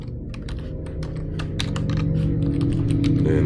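Rapid typing on a computer keyboard, a close run of crisp key clicks and taps laid over a low steady background hum, with no speech.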